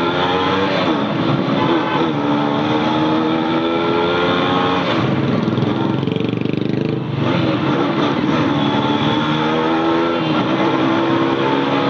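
A motorcycle on a street ride accelerates hard, its engine a loud, continuous roar that climbs in pitch and dips once before rising again, with wind rush throughout.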